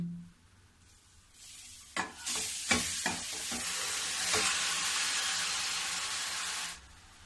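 Grated carrots tipped into a heavy kadhai over a medium gas flame, a sudden loud hiss that swells into steady sizzling, punctuated by several sharp stirring knocks, then cuts off.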